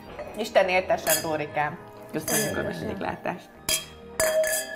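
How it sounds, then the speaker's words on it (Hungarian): Glasses clink together in a toast at a Hungarian home meal, a few sharp ringing chimes near the end following cheerful spoken voices. "Erre kocintunk, jó?"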